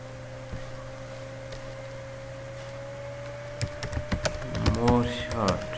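A computer keyboard tapped in a quick burst of keystrokes, ending with the Enter key, over a steady electrical mains hum in a quiet room; the clicks come close and clear in the second half.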